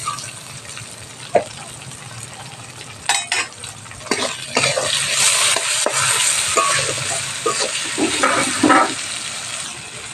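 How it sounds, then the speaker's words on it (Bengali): Browned onions fry with added tomato and salt in a pan, a steady loud sizzle broken by scraping stirs and a few sharp utensil knocks against the pan, close by with no talk. "পেঁয়াজটা বাদামি কালার চলে এসছে, এখন দিয়ে দেবো আমি টমেটো, দিয়ে দেবো পরিমাণ মতন লবণ"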